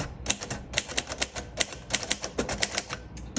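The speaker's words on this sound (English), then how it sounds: "this is a great typewriter" Typing on a 1950 Royal Quiet Deluxe manual typewriter, a quick irregular run of crisp, close key strikes with short pauses between bursts, no voices.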